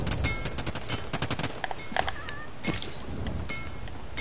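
Rapid gunfire in the Realm Royale battle game, a dense run of sharp repeated shots in the first half followed by scattered bursts and pings, loud and close.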